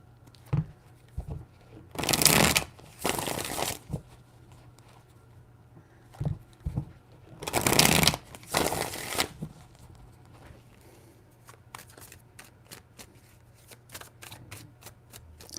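Tarot cards are riffled and shuffled in two loud bursts of crisp, rapid fluttering, separated by softer taps and handling sounds, ending in a series of quick light clicks as the deck is squared.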